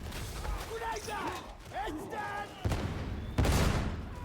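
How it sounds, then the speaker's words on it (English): Gunfire and a delayed grenade blast in the Warhammer 40,000 Darktide video game, with broadband bursts late in the clip standing out loudly over earlier chatter-like game sounds and vocal effects. "that was a little delayed nade explosion"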